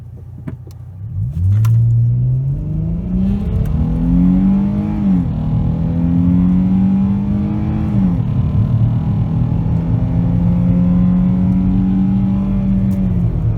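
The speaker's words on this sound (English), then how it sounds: "I'm gonna make just a quick power pass, just to let you hear how it sounds" AWD Chrysler 300 with a 3.6 V6, performance exhaust and intake, heard from inside with the windows closed, a strong engine note rising through two gear changes into a sustained high-speed drone, loud and close.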